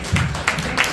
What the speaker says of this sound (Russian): Искупаем же наших артистов аплодисментами!